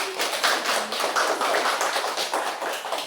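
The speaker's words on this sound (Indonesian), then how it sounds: "Tepuk tangan dulu" Students in a classroom clap their hands together in a lively group burst, with rhythmic claps pulsing steadily and fairly close by throughout, no talking over them.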